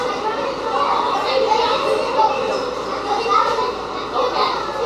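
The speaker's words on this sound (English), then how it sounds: "You hear kids outside of us." Children playing and chattering outside a New York City subway train waiting at the Coney Avenue terminal, a lively murmur of young voices with occasional louder shouts, heard from inside the car.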